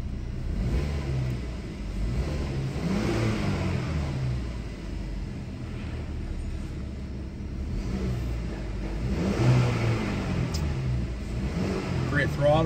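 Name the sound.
2015 Buick Regal 2.0 liter turbo engine revving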